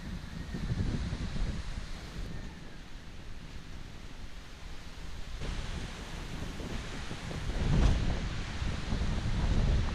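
Strong wind roars steadily across the microphone, a dense rumbling rush that swells into a louder gust toward the end.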